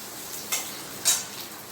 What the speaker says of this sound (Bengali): তাই একটু ভালো করে ভেজে নিতে হয় কচুগুলোকে।